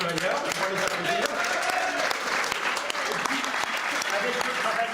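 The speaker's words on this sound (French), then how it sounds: "On va les applaudir." An audience at a Freebox V6 product launch applauds, dense clapping heard alongside voices talking over it.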